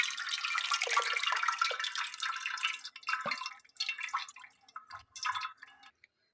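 Tamarind pulp and water strained through a strainer into a kadhai, giving a steady patter of dripping, trickling liquid that thins into scattered drips toward the end, close by with no talking.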